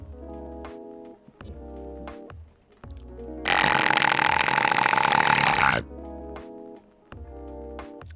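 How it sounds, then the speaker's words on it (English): A long, loud, deliberately exaggerated burp rumbles for about two seconds, standing out between stretches of ordinary talk before and after it. "Cursed burp."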